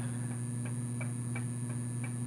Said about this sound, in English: if y'all can hear the little beep beep beep in the background, yeah, that's him microwaving tea